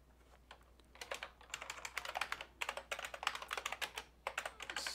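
Rapid typing on a computer keyboard, close and fairly quiet, a steady run of crisp key clicks in irregular bursts with brief pauses, no voice over it.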